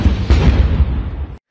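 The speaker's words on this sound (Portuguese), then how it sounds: "Foram ouvidos vários tiroteios junto ao edifício" Gunfire near the Government Palace in Guinea-Bissau: a loud, close burst of blasts and pops over roughly a second and a half, with one sharp report standing out, then an abrupt stop.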